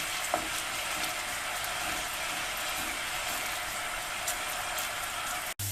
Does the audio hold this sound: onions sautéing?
yes